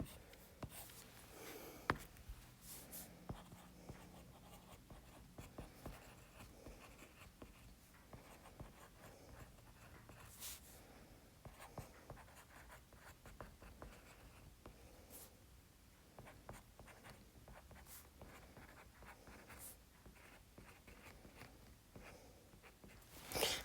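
Pen or stylus writing by hand while working a math homework problem, with a steady scratchy stroke texture running throughout at low level, punctuated by brief taps and faint rustles, with no talking.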